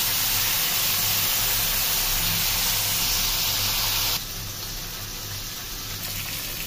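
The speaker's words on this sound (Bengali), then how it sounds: "তেলটা অনেক গরম হয়ে গেছে, গরম হয়ে পুরো ধোঁয়া উঠে গেছে। তো মাছ একটা দিয়ে দিই প্রথম" Fish fries in smoking-hot oil with a loud, steady sizzle and hiss that drops to a softer level partway through and then carries on evenly, with no talking.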